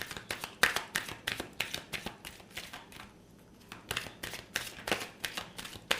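Tarot cards shuffled by hand in quick repeated riffles. The crisp bursts come close and steady over a few seconds, with a brief pause midway and no talking.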